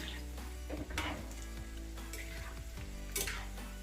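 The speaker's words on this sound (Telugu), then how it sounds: "మంచి క్రిస్పీగా అయ్యే వరకు మీడియం ఫ్లేమ్ మీద పెట్టి వేయించుకోవాలి." Onion pakoda deep-frying in oil over a medium flame, with a soft continuous bubbling sizzle close by, punctuated by light clinks and scrapes of a utensil turning the fritters.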